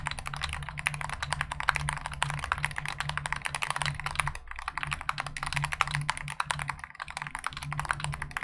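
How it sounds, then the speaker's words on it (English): Rapid, steady clacking of a DrunkDeer A75 Pro mechanical keyboard being typed on continuously, close and crisp, with no voices. "Here's the typing test."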